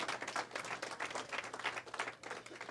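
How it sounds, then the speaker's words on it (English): Luncheon audience at a college football media event breaks into steady, moderately loud applause, a dense wash of clapping hands lasting throughout with no talking over it. "Let's hear it for ML"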